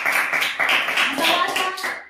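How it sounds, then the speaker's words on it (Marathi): Children in a first-grade reading lesson clap in short rhythmic bursts, loud and close, with speech mixed in among the claps. "चला छान, टाळ्या"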